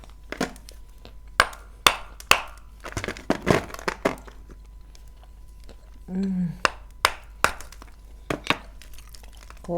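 A hammer splitting a large block into smaller pieces, with sharp, irregular cracks and chopping knocks heard up close, plus a brief voice in between.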